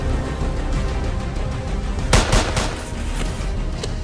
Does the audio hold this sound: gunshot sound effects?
yes